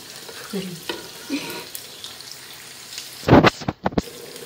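Quiet kitchen ambience gives way to a burst of thick bubbling and scraping as a spoon stirs simmering arroz caldo rice porridge sticking to the pot bottom, with a few sharp clanks near the end.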